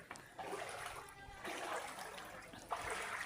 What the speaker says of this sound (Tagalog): So, high tide na naman siya guys.